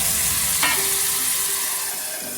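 Cauliflower for gobi bhaji fries in a pan with a loud, steady, close sizzle and one brief scrape early on, with no voices.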